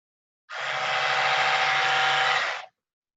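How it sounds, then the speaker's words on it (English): An electric toothbrush with its brush head removed switches on and buzzes with a steady high hum for about two seconds, close and loud, then cuts off cleanly, with no talk over it. "if I take the toothbrush top off and I turn it on, it's going to make a kind of humming,"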